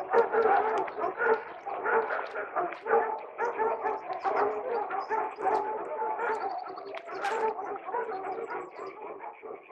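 Several dogs barking and yelping excitedly while following a scent trail, a dense overlapping chorus of barks and yips at moderate distance, continuous and uneven in rhythm.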